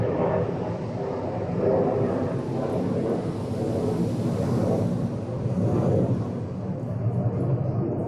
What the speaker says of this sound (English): I'll wait for the jet to finish flying over.